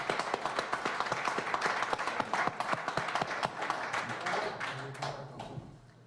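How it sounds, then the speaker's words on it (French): An audience at a press conference about a Gaspésie snowmobile circuit gives a round of applause, steady clapping from many hands that thins and fades toward the end. "j'aimerais qu'on lui donne une bonne main d'applaudissement"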